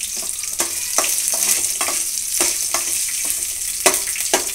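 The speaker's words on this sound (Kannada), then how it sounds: "ಆಲೂಗಡ್ಡೆ ಒಂದೇ ಮಾತ್ರ, ಅದು ಸ್ವಲ್ಪ ಫ್ರೈ ಆಗಲಿ." Small potato pieces frying in a pan for tomato gojju, a bright continuous sizzle with repeated sharper bursts as the pieces are stirred, close and fairly loud with no talking.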